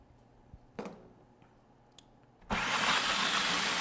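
A food processor purees a sauce loosened with water or sun-dried tomato liquid. After a few quiet clicks and knocks, the motor roars on suddenly and whirs loudly and steadily to the end.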